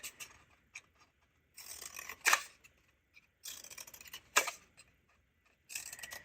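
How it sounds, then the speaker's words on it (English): Scissors snip slits into paper for a 3D pencil craft, quiet crisp cuts in three short bursts with sharper clicks between, close and alone. "I'm just going to cut them."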